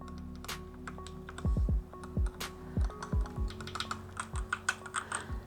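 Someone types on a heavy Cryo mechanical gaming keyboard, with rapid, irregular clacking keystrokes close up and a few deeper thocks from larger keys, no talk.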